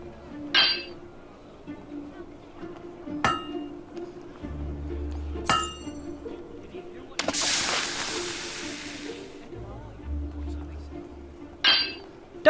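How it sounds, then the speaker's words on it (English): A smith's hammer strikes metal in the video game Fable 2. Four sharp ringing clanks land a few seconds apart, with a longer hissing burst in between over quiet game ambience. "A perfect hammer blow."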